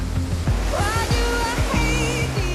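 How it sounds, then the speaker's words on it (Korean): Elbow Falls in Kananaskis, in the Canadian Rockies in winter, roars as a steady, loud wash of falling water that fills the whole moment, with faint voices beneath. "케네네스키스에서 절대 놓쳐선 안 되는 엘보우 폭포입니다."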